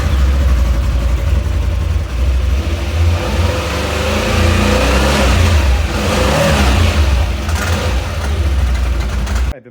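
A 2025 Can-Am XMR 850 off-road vehicle's engine revs loudly up close, its low rumble rising and falling across several throttle blips before cutting off abruptly.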